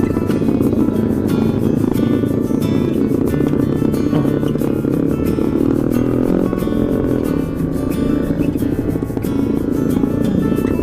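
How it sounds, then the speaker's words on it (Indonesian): Loud, continuous engine roar of motorcycles with noisy exhausts on a busy road during a touring ride to Pangalengan, Bandung, West Java, droning steadily throughout with no pauses. "ada knalpot gandeng, knalpot berisik"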